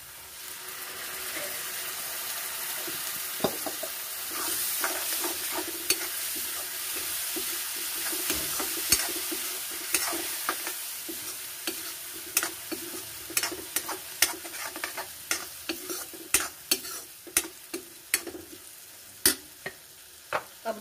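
Masala for a raw banana curry sizzles gently in a pan on a low gas flame while a utensil stirs and scrapes it, giving sharp irregular clicks over a steady frying hiss, close up and without talk.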